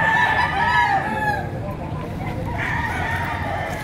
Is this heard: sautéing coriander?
no